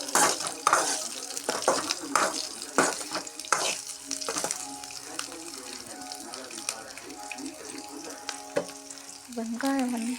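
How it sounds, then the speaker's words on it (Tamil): Onions and chillies sauté in a pan with a close, crackling sizzle and clattering stirs, louder at first and then settling, while a faint voice sounds underneath. "வெங்காயம் நல்லா வதங்கணும்"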